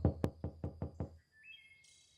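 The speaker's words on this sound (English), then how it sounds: "you hear the softest, most faint knock coming from the door" Five quick, soft knocks on a door in a short, even series, close but gentle, followed by quiet with a faint high electronic tone.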